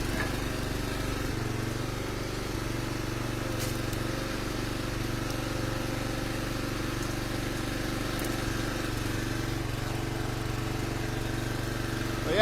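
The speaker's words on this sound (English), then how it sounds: "You hear that throttle fluctuating? It's been revving up pretty high." A firewood splitter's engine drones continuously at moderate level while splitting ash rounds, its pitch wavering slightly as the throttle fluctuates, rising and dipping, with a brief high-revving surge at the very end.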